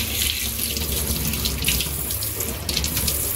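Water runs steadily from a tap fed through an electric instant water geyser, a continuous loud hissing splash with no pauses and no voices over it.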